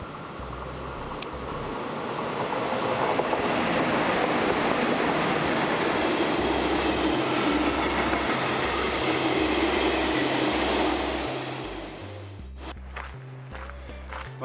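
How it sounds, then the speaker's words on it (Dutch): A train rumbles past at a distance on a viaduct over the B9 near Andernach, Germany, its rolling clatter swelling to a steady roar, then fading away as the noise thins out near the end. "En de trein."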